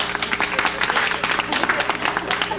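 Studio audience at a 1970s talk show applauding in a steady, dense wash of clapping, loud and close throughout.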